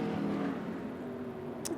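A sprint car in an ASCS heat at Arizona Speedway passes on the dirt oval, a distant engine drone that swells and fades briefly, with a sharp high burst near the end.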